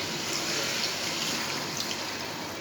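Tamarind extract poured into a pan of fish curry, a steady continuous liquid pour of moderate loudness heard alone without talk.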